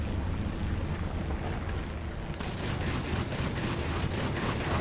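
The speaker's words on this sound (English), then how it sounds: "anti-aircraft that's been shooting at that Panzer IV" Anti-aircraft gun in a video game fires at a Panzer IV tank, a dense, continuous rattle of rapid shots that grows louder and sharper partway through, with no talking.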